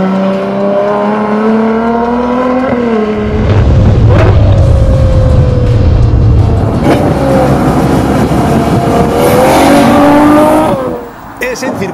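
A Ferrari 812 Superfast with an 800 hp engine, driven on a race track without electronic aids, revs hard through rising gears, its loud engine note climbing, briefly dipping at shifts, then pulling up again close by.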